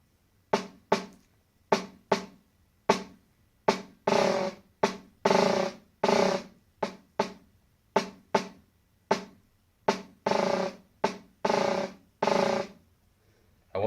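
Snare drum buzz roll exercise played at a moderately soft mezzo piano level, a steady series of short, separated buzzing strokes and sustained rolls in a repeating rhythm, heard alone and up close with no talking.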